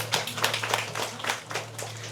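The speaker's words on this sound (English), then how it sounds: "So a round of applause for Thomas, please." Audience applauding a guest at a live Q&A event, a moderate burst of clapping with distinct individual claps over a steady low hum.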